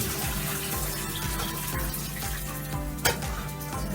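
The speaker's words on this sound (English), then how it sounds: "need to carefully drain them over the sink and try to get as much water off of them as you can" Water runs and trickles steadily as food is drained over a kitchen sink before frying, a continuous wet splashing wash with a low rhythmic thudding underneath and a brief sharp clatter near the end.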